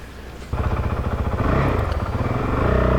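A Honda CRF450L dual-sport motorcycle engine bogging under weak throttle, a loud, near, labored chugging that kicks in after a half-second lull and drones unevenly without revving up cleanly.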